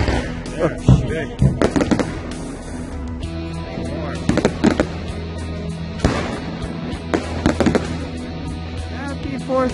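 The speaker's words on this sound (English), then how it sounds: "fireworks. It looks like a volcano." Fourth of July fireworks over Carlsbad Beach, California, booming and crackling in loud repeated bursts at moderate distance, some in quick clusters, while spectators chatter and cheer nearby.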